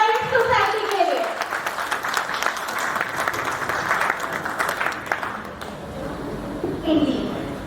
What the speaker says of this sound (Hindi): तो एक बार जोरदार तालियां union bank employees cooperative thrift and credit society के लिए